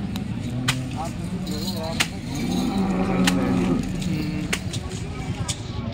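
Cows at the Modnimb cattle market give a low moo partway through, heard amid a busy outdoor din of people talking and sharp clacks.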